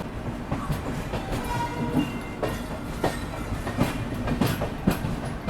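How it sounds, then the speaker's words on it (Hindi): The Humsafar Express rolls out of Vijayawada station with a steady rumble and rhythmic clickety-clack of wheels over rail joints, heard close and continuous with occasional sharper knocks. "अभी विजयवाड़ा से अपनी ट्रेन निकल रही है"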